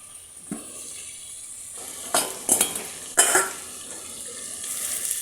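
Potatoes and carrots are stirred in a hot oiled pan, with several scraping, clattering strokes of a utensil over a steady sizzle.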